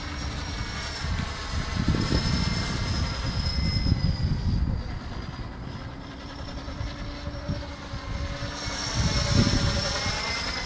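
A T-Rex 600 radio-controlled model helicopter flies with a sustained high whine from its rotors and engine, rising and falling as it moves through the air, with no talking.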